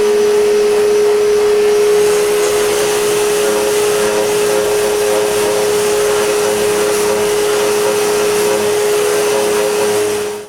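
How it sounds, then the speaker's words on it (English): A power sander works the exterior of a wooden nightstand with a steady loud whine and hiss, close up and continuous, with no one speaking, winding down at the very end. "When the glue is dry, I sand the exterior."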